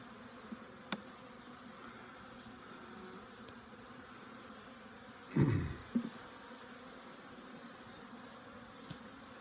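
Honey bees buzz during a spring hive inspection, a faint continuous hum with one louder, close buzzing pass as a bee flies near, plus a few light clicks and knocks from handling frames.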